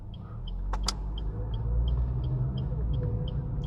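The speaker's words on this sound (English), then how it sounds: "Gently accelerating while we're turning" Car gently accelerating through a turn during a driving test in New Zealand, soft steady engine and road hum heard from inside with a faint regular ticking, likely the indicator, and a couple of sharp clicks.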